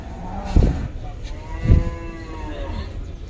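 Cattle at the large Gabtoli cattle market moo in deep, drawn-out calls at close range, with a couple of heavier thumps and a low background bustle.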